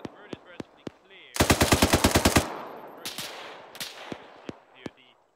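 Automatic gunfire in the video game ArmA 3 during an Afghanistan deployment mission: a loud rapid burst of about a dozen shots, then scattered single cracks near and farther off, with faint radio chatter in between.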